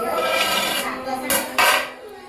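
A lid comes off a pot of mutton biryani after it has been steamed on dum: a low kitchen hum is broken by two sharp metallic clanks, followed by a short rattle as the lid is set aside.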